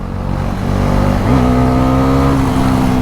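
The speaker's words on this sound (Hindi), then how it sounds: "NS400 भी बढ़िया चल रही है यार, बढ़िया रिफाइनमेंट है।" Bajaj Pulsar NS400 motorcycle engine running steadily while riding, loud and close, with a clear upshift or rev change partway through followed by a smooth, rising harmonic drone.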